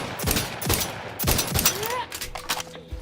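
Gunfire in the video game The Outer Worlds 2, several loud close shots in quick bursts with sharp decaying tails, mixed with other game sounds.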